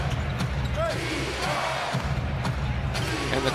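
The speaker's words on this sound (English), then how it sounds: "the crowd now starting to make a little bit of noise" NBA arena crowd during a Phoenix Suns vs Timberwolves game, a broad murmuring roar with ball bounces and squeaks mixed in, a commentator talking over it.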